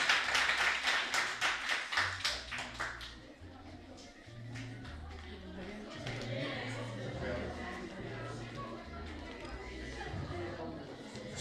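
An audience at an award ceremony for reciters applauds a teacher with a burst of rhythmic clapping that fades after about three seconds, then gives way to a speaker talking over a hall with light chatter.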